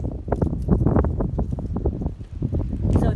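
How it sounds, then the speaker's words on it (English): Gusty wind blowing outdoors on a property, rumbling and buffeting the microphone in a continuous, uneven low roar throughout. "So it's getting a little bit windy here."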